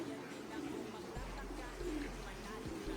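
Low, soft cooing of racing pigeons in a loft blends with a steady rustling hum nearby, with faint human voices murmuring in the background.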